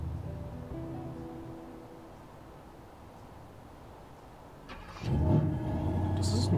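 Car engine in a video game, a low idle hum that jumps into a louder revving surge near the end, with a person talking over it.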